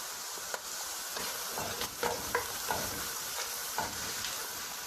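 Red chili, garam masala and coriander powder frying in a pan for butter chicken make a steady close sizzle, broken by several soft scraping stirs.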